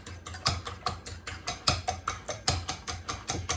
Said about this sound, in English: So I'm whisking together the tablespoon of melted coconut oil with the 4 eggs.